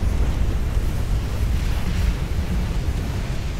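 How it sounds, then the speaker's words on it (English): A warship's flash fire explosion in the naval game Ultimate Admiral Dreadnoughts, heard as a loud, sustained, rumbling roar that fills the whole clip with no break. "Oh, flash fire."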